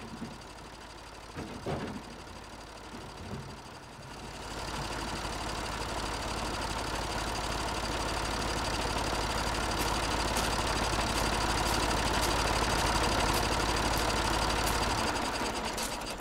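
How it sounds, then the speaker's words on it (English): Tractor engines idling, starting after a few seconds of quiet shuffling and then holding a steady, fairly loud mechanical drone with a faint rhythmic knock for the rest of the clip. "These tractors."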